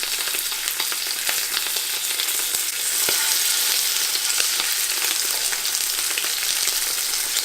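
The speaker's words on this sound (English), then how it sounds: "You can hear it sizzle." Chicken thighs for hunter's chicken sizzle in a hot, lightly smoking frying pan with a steady, crackling hiss and scattered pops, close and continuous with no talking.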